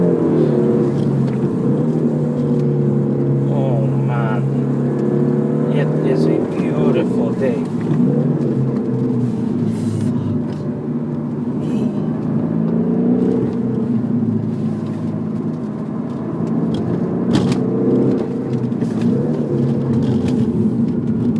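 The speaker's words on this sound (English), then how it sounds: "Oh my god, the car sounds great." A Peugeot 308 GTi engine drones while driving in the Philippines, a loud, continuous tone that swells and eases gently with throttle over about twenty seconds.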